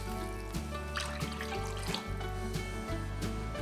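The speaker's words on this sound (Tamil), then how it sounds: "இப்போ முந்திரி பாதாம் வறுத்த அதே கடாயில் 3 கப் அளவுக்கு தண்ணி விட்டுக்கலாங்க." Water is poured into a kadai pan that was used to roast cashews and almonds while making flattened rice halwa, giving a steady, close trickling splash with no voices.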